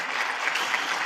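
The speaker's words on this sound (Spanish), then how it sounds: "Démosle un aplauso a las abuelitas." Inside a church gathering, an audience gives the grandmothers a brief round of applause, a close, bright, even patter of many hands with no talking over it.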